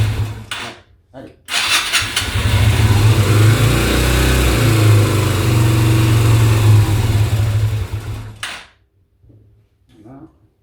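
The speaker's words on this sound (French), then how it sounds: "Déjà, il a l'air un peu bas ce ralenti là." A Yamaha Virago 125 motorcycle engine starts and idles with a steady, low, somewhat slow rumble for several seconds, then cuts out, close and loud.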